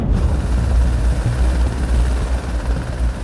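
A rescue helicopter hovers close over floodwaters, its rotor throbbing in a loud, steady low-frequency drone with constant engine roar that fills the whole stretch.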